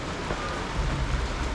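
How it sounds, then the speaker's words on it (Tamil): Heavy rain falls steadily at night near Munnar's Eravikulam National Park, a dense, close, loud hiss of downpour with no pauses and no voices. "சரியான மழை வேறு. இந்த மழையில் போகிறோம்."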